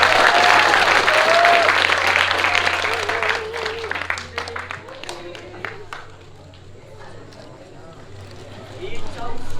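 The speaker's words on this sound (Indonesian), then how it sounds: "Berikan tepuk tangan yang meriah." An audience applauds at a school performance event, a loud burst of clapping that fades over several seconds, with a few scattered claps continuing and some talk underneath.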